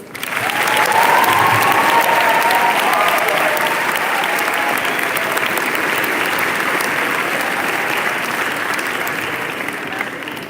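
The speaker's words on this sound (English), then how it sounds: "Please give them all a round of applause." A large crowd applauds loudly and continuously at a Model United Nations closing ceremony, the clapping swelling quickly and holding steady before tapering slightly at the end.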